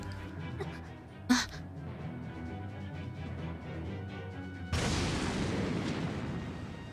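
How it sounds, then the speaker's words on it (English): Explosion rocking a ship in the Norn9 video game bursts in with a sudden broad rumble that holds loud to the end, after a sharp early crack over a low hum. "Another explosion rocked the ship, shaking it so badly I could no longer stand."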